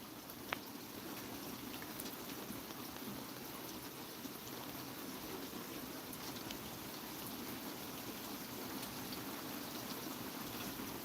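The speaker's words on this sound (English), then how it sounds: "Beautiful rainy night." Steady rain falling at night, an even, faint hiss of drops on surfaces with occasional soft ticks, continuous and alone with no voices.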